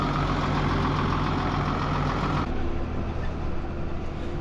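A New Holland tractor engine idles steadily and loudly nearby, a continuous low rumble that shifts slightly in tone partway through, with no speech.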